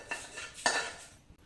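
A large metal frying pan clanks twice against cookware while sambar powder is prepared, with lighter scraping in between and no talk.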